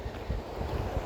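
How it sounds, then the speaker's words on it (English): A roaring river running beside a woodland path, a steady broadband wash of rushing water with low rumble and some wind buffeting on the microphone, continuous and fairly loud with no talk. "I'm walking by the river, which is roaring."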